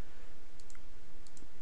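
Logitech G110 keyboard G keys clicking, two quick pairs of light, close clicks spaced apart over steady background hiss, with no talking.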